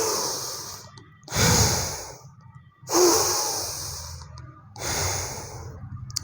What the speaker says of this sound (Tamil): இதில் நல்லா மூச்சு இழுத்து விடணும்.